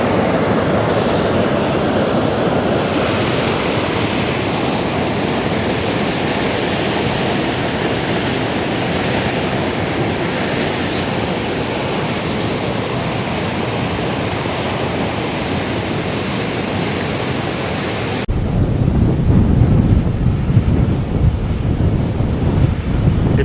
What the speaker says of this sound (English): And as you can see, they're releasing water.